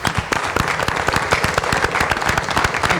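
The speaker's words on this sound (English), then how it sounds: "I think it deserves a round of applause." A round of applause at a school board of education meeting, a lively burst of many distinct, close claps in quick irregular rhythm, fairly loud and sustained with little talk.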